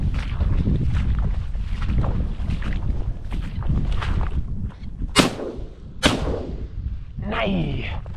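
Two sharp, loud shotgun blasts about a second apart ring out during a duck and snipe hunt, each with a quick echoing tail, over steady wind buffeting the microphone and faint outdoor rustling.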